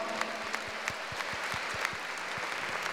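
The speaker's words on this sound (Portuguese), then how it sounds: "Para Jesus, uma salva de palmas." A church congregation claps for Jesus during adoration of the Blessed Sacrament at a feast, a brief round of scattered rhythmic applause heard from moderately far in a reverberant space.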